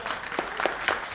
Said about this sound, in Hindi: इनके लिए भी तालियां बजाएं।